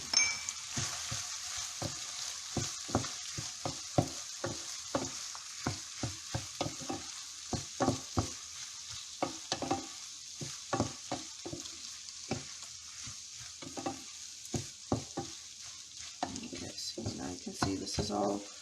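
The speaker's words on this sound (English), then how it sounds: "add the rice, and we're going to coat the rice" Rice stirred and coated in a hot pan for a traditional Italian risotto: a steady faint sizzle under repeated light scrapes and clinks of a spoon against the pan, with no talking.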